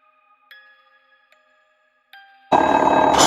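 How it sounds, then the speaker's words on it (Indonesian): A bell rings several times, with clear sustained ringing tones struck at intervals, fairly faint and alone, before a sudden loud burst of noise cuts in. "itu suara bel"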